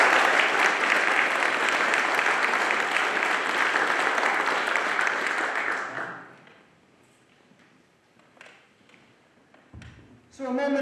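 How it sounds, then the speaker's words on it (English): An audience at the NPS Hall of Fame induction ceremony applauds the reception's sponsor, a loud sustained clapping that fades out after about six seconds, leaving a quiet room with a few faint taps and a voice at the close. "Please give them a round of applause."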